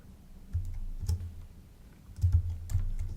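Computer keyboard keys pressed for a shortcut such as Command or Control Shift P, heard as soft close clicks in two short clusters with a quiet pause between them, with no voices.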